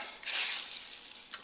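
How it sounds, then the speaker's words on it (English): A short burst of hissing, crackling sizzle from garlic-topped chicken frying in a hot pan, close and fairly soft. "Sizzling."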